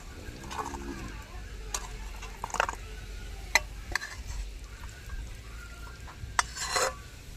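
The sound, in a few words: stirring laushak with milk and sugar in pan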